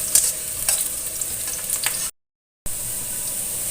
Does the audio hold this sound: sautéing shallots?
yes